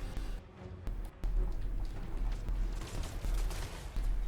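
A battle in Total War: Warhammer, Gorgers against Infernal Guard, with a dense, continuous crackle of volleyed gunfire and rumbling impacts under a steady battlefield din, with a few sharper reports standing out.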